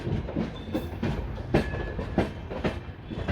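An Indian Railways Durg–Puri intercity express rolls steadily along a curving line, its carriages giving a continuous rumble with rhythmic clickety-clack wheel beats heard from on board.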